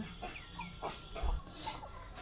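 Several native desi hens cluck softly and intermittently nearby, short clucks scattered over a faint background hum.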